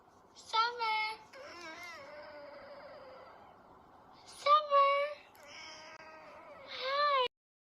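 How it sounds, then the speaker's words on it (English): A cat meows several times, close and clear, with drawn-out cries in two bursts separated by quiet pauses, alone without talk. "That's the cat that just says no."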